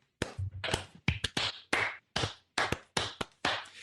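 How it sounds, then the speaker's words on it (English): Two podcast hosts clapping near the microphone: about ten sharp, uneven claps spread over roughly four seconds, with no talking. "Should I be clapping? I think we should."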